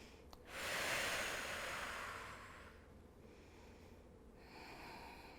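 A slow, soft breath drawn in and released while holding a yoga pose during a vinyasa flow, close and quiet, one long exhale over faint room hiss.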